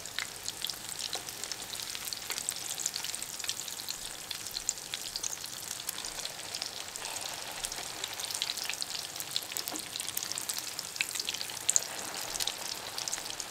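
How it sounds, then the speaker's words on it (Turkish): Steady crackling sizzle of zucchini frying in a pan, a constant bright hiss with scattered pops throughout, close and moderately loud. "Diğer taraflarında nar gibi kızartalım."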